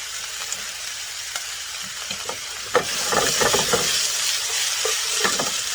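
Beef and vegetables sizzle and hiss in a hot stir-fry pan, with scraping stir strokes and clatter growing busier as food is tossed, close and fairly loud.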